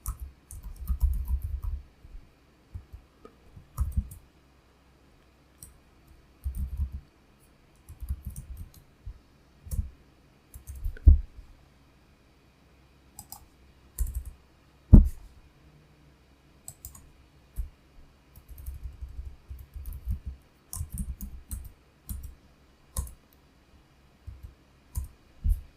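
Someone types code on a computer keyboard in short, irregular bursts of crisp key clicks separated by quiet pauses, with a few sharper single taps. No one talks.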